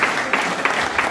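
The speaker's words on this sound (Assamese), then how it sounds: "বজাওক তালি বজাওক তালি বজাওক তালি" A seminar audience at a Mi Lifestyle event in Assam bursts into steady, dense clapping that fills the room, loud and continuous with a few sharper swells and no voices on top.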